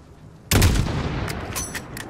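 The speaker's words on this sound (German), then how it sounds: "Guter Schuss, Alex." A single loud sniper rifle shot from the video game Call of Duty Modern Warfare cracks sharply and close, then rolls into a long reverberant tail with no talk over it.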